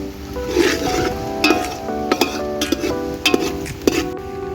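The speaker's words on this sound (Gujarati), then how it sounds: "આપણે હવે ડુંગળી સારી રીતે લાલ થવા દઈશું" Onions fry in a pan for potato poha, with a steady close sizzle under repeated sharp clinks and scrapes of a metal spoon stirring against the pan.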